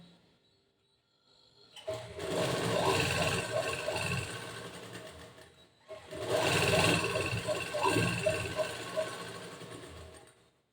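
A sewing machine stitches one side of a narrow 1.5-inch fabric strip for a boat-neck blouse, running in two long, loud, even bursts separated by a brief pause, with a soft start before the first.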